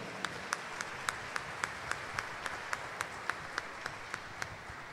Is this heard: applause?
yes